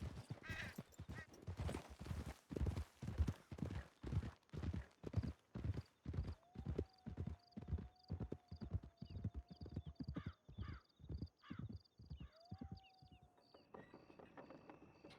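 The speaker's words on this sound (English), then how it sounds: "Os caras quase mataram meu cavalo, velho." A horse in Red Dead Redemption 2 clip-clops along at a steady trot, hooves loud and close in an even rhythm, with a couple of neighs and faint whinnies over a quiet game backdrop, ending with a small chime.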